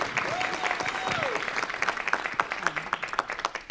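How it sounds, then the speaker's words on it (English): An audience at a city council meeting claps in a round of applause that builds into distinct, rhythmic claps, moderately near, while voices talk and call out over it. "So give them a round of applause."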